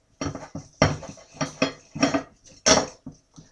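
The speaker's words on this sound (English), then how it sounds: "Then get the knife. Start cutting the meat into little pieces." A knife chops cooked meat into little pieces on a board, a run of about seven close, knocking cuts in an uneven rhythm, with no talking.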